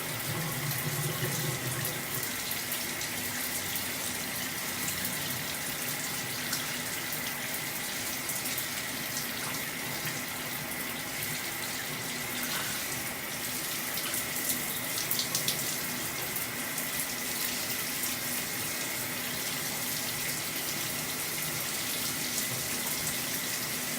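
A tap running steadily while curly hair is washed, a continuous close hiss and splash of water with slight changes in flow, lasting the whole time without speech.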